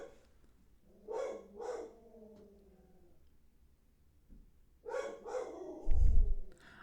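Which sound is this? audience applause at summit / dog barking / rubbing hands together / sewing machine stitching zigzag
dog barking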